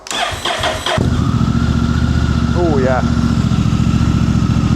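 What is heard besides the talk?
Honda Africa Twin motorcycle engine starting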